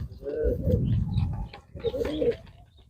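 Pigeons coo close at hand in two swelling bursts of throaty, rolling calls, with a short gap between them and faint mouth-like sounds mixed in.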